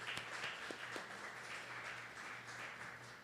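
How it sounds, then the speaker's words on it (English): Audience applause at a graduation award ceremony for guest speakers, a steady distant clapping wash lasting a few seconds at low volume. "Another round of applause to all of our guest speakers."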